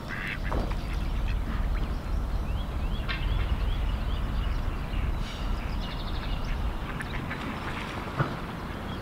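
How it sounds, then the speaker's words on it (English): Ducks quacking outdoors during a trip through Slovenia and Austria, several birds calling in irregular bursts over a continuous low rumble of background noise. "So I'm gonna show you some ducks right now. Look at these duckies."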